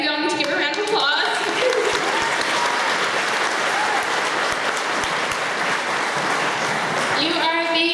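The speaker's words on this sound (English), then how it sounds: "we all need to give her a round of applause" An audience at a farewell speech applauds loudly for a grandmother's birthday, a dense sustained wash of clapping from many hands, with a voice speaking at the start and again at the end.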